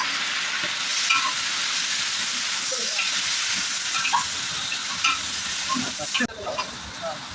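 Tomatoes and green chillies frying with browned onions in a pan, a steady close sizzle with occasional scraping stir strokes throughout.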